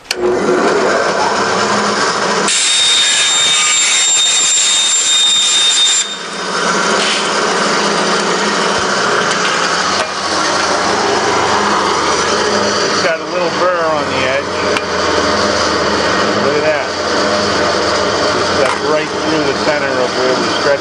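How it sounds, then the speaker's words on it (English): A wood bandsaw cuts through aluminum sheet for metal shaping, a loud steady mechanical whine and rasping blade noise running throughout, with a brighter, harsher screech during one early stretch of the cut. "we're going to cut it up with the bandsaw. Got a wood bandsaw, cuts aluminum just like wood."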